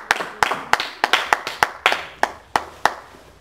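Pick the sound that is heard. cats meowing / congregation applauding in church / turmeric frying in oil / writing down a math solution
congregation applauding in church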